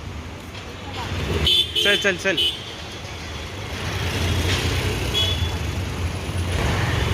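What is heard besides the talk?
road traffic, vehicles passing on a Mumbai street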